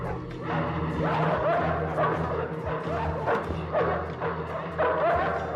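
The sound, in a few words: dog barking in Bruce Lee film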